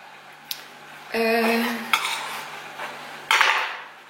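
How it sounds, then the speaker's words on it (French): Clinks and clatters of a dish and oven rack as food goes into an oven: a sharp tick, a rattling scrape, then a few metallic knocks and a final clank, fairly quiet and close. "Je vais le mettre au four."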